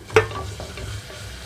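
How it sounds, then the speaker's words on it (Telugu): Chopped tomatoes tumble into onions frying in oil for a mutton curry, giving one sharp splash and sizzle near the start. A soft, steady frying hiss follows, close by and with no talk. "ఇక్కడైతే ఉల్లిపాయలన్నీ కలర్ మారేటప్పుడే ఇందులోకి కట్ చేసి పెట్టుకున్న టమాటా కూడా వేస్తున్నాను"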